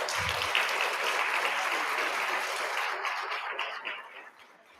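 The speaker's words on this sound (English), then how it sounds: "could you please give a round of applause for the candidates" Audience applause for the candidates at a mayor-president forum: dense, sustained clapping from a large crowd that holds steady, then thins and fades out near the end.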